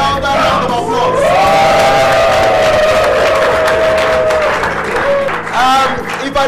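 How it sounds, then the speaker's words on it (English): A crowd applauds and cheers loudly for a chief, with clapping under shouts, whoops and a long sustained voice rising over the noise, then a second swell of cheering near the end. "I think the chief deserves a louder round of applause"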